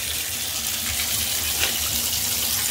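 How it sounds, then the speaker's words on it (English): Tap water runs steadily into a bathtub just unclogged with a drum auger, a continuous hissing gush at moderate volume with no talking. "Turn on the water."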